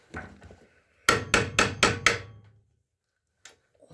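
Five sharp, evenly spaced metal hammer blows knocking out Kohler engine mount bolts on a Case Ingersoll garden tractor ring out close by, followed by a pause and a single faint knock.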